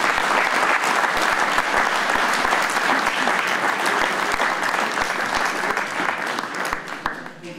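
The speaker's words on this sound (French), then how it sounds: "On peut les applaudir." A crowd outdoors at an agricultural fair applauds prize-winning primary school classes with sustained, dense clapping, fairly loud and continuous before tapering near the end.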